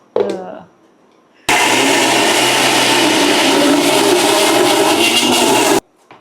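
A loud, steady whirring roar of a stone wet grinder running continuously, starting abruptly after a brief voice and stopping suddenly.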